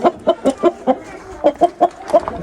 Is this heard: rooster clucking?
yes